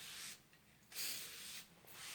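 Liquid starch sprayed onto a paper craft shape for an Earth Day project: a few soft, close hissing bursts of spray separated by short pauses, with no talking.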